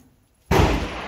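A single sharp, loud report from an RPR rifle bursts out after a brief quiet lull, its boom decaying over the following half second.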